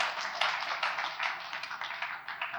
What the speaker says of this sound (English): If you want to applaud.